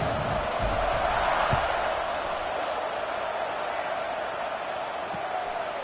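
A stadium crowd roars at an NCAA 26 college football video game, a steady, dense wash of cheering noise that swells slightly early on and then holds at an even level throughout.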